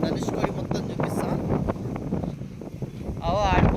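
Strong sea wind on the road through the open sea at Dhanushkodi buffets the microphone in rough gusts while someone talks close by.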